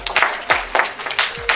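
A handful of audience members clap at a magic show, separate sharp claps spaced unevenly over a short moment, close and moderately loud.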